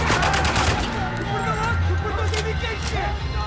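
Gunfire from the Spec Ops: The Line video game, a busy stretch of rapid shots and bursts layered over background battle noise and talk, fairly loud and continuous throughout.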